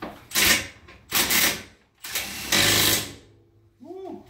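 A ratchet tightens a bolt on the coilover suspension of an EM2 Honda Civic during a 5-lug conversion. Four quick bursts of clicking come close up, and a short voice sound follows at the end.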